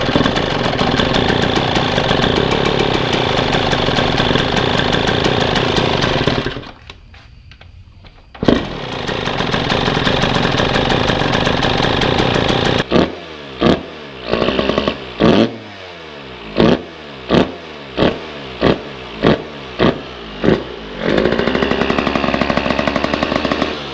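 A Yamaha YZ125 two-stroke dirt bike running loud and close after a carburetor adjustment. It drones steadily, then drops out briefly, picks back up, and later gives a series of sharp rhythmic throttle blips.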